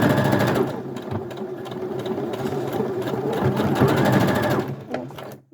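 A sewing machine stitches fabric for a removable Victorian collar, passing over the seam several times for back-stitches, a loud steady mechanical whir of rapid needle strokes that runs about five seconds and then stops.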